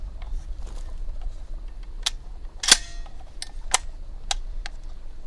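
Sharp metallic clicks and clacks ring out as a magazine is handled and loaded into a Maestro Arms 24 gram shotgun, several separate snaps including one louder latch, close by over a low background hum.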